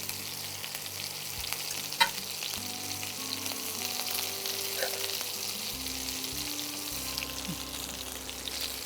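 Chicken pieces for a lime coconut chicken fry in a pan with a continuous crackling sizzle that stays steady throughout, with one brief clink of a utensil near the start and no talking.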